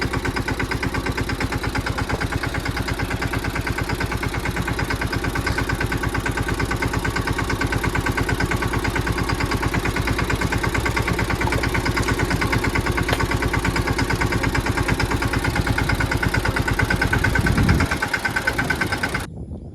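A tractor engine idles with a steady, throbbing chug for nearly twenty seconds, then cuts off abruptly.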